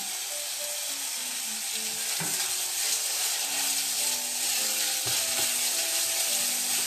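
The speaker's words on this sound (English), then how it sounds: "stir frying our onions." Onions stir-frying in a pan for Portuguese caldo verde soup, a steady bright sizzle with occasional scrapes and clinks of stirring, no talking.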